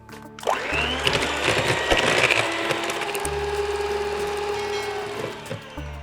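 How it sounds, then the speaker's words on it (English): An electric mixer whirs through chocolate pudding batter with an added egg, a loud, close motor drone with rattling beater noise that steps up in speed, then settles. "Okay, and you add that, and we mix some more"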